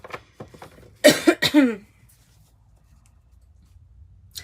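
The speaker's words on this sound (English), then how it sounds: "Excuse me, by coughing right there." A few sharp coughs in quick succession, close and fairly loud, after some faint rustling, then quiet.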